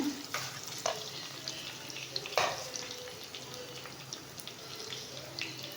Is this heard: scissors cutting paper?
no